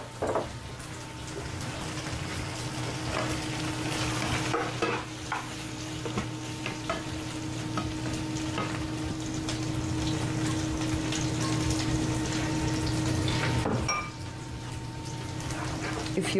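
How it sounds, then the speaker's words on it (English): Leftover pasta with cauliflower reheats in a pan, sizzling steadily while a utensil stirs and scrapes, under a low constant hum, with a short pause near the end before the frying resumes. "And our cauliflower left over. A quick reheat for the pasta."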